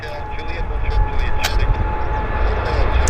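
A plane takes off at Vancouver International Airport, its engines making a steady, broad roar that holds at an even level through the short clip.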